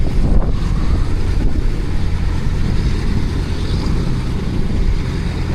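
Strong wind blowing outdoors at the Aviodrome aviation museum, buffeting the microphone with a loud, steady rumbling roar and gusty low-end thumps throughout.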